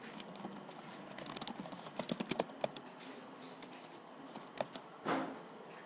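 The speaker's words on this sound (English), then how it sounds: "So let's type in." Light clicking on a computer keyboard in a quiet room, quick uneven bursts of keystrokes that thin into scattered taps, ending with one softer, longer clatter.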